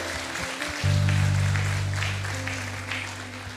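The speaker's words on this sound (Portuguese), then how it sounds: "Você pode aplaudir o Senhor Jesus." A church congregation claps together in a steady wash of applause during a worship service, with a sustained low keyboard tone ringing beneath it and the clapping slowly easing off.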